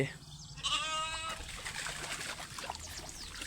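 A goat lets out one close, wavering bleat, followed by a steady background of splashing, trickling water from a tap.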